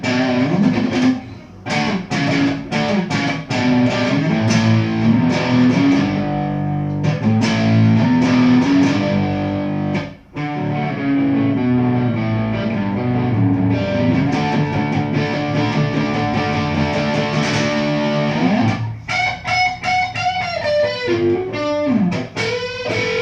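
A 1984 Yamaha SG 3000 electric guitar plays a song outro on a crunchy, mildly distorted tone: sustained chords and melodic runs ringing continuously, with one brief pause partway through.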